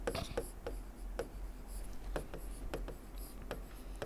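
Pen or chalk writing out a math equation, heard as a run of short scratchy strokes and taps at an even pace, close and fairly quiet, with no talking.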